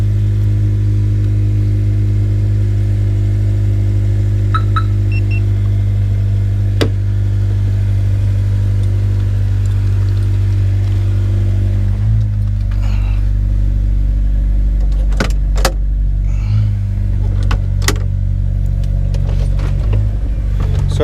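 Car engine idling with a deep, bassy, throaty rumble, steady and loud for the whole stretch, with a few small shifts in tone and faint clicks along the way.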